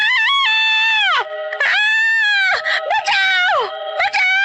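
A witch in a horror cartoon shrieks as hot oil from a frying pan splashes on her, a voice performing a series of loud, drawn-out wailing screams that bend and break, repeated several times.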